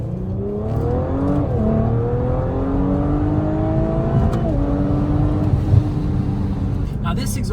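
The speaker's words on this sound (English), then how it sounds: "this car has the full exhaust setup. Really has a nice unique V6 sound. A lot of pops and cracks" An Audi RS5 B9 V6 with a full Valvetronic Designs exhaust revs, its note rising in steady pulls with brief dips between, loud and near, ending in a few sharp pops and cracks.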